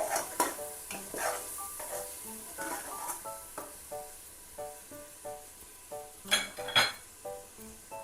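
Masala fries and sizzles in a pan while a spoon stirs it, giving repeated metallic clinks and scrapes in an uneven rhythm over a soft, steady sizzle, close and fairly quiet.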